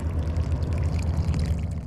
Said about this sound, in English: let's run some more water in here